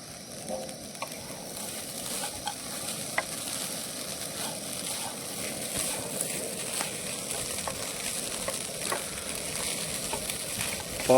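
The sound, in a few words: stirring poha with peanuts and coriander in a pan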